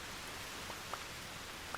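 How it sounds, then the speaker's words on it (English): Rain falls in Minecraft, a steady soft hiss of drops with a few faint ticks, quiet and continuous with no talking. "Look, the rain is making us lag today."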